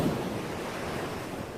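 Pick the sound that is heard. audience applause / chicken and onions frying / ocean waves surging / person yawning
ocean waves surging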